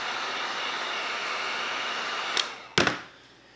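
A heat gun blows a steady, even hiss of hot air over an X-Maxx RC body graphic wrap for a few seconds, then it clicks off and the blowing fades quickly.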